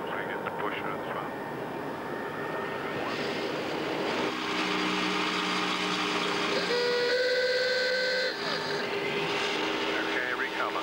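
A test aircraft flies a stick pusher descent with the throttles closed, its engine noise a continuous loud drone, later joined by steady tonal warning hums.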